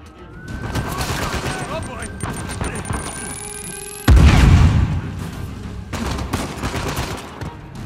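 Rapid bursts of gunfire and a heavy boom from the video game Uncharted 4 crackle amid game sounds, dense and fairly loud, with voices mixed in.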